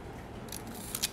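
A Zeiss Ikon Contina II 35mm camera from about 1956, with a Novicar 2.8 f=45mm lens and a shutter stuck at slow speeds, fires with a couple of short, quiet mechanical clicks against a faint background.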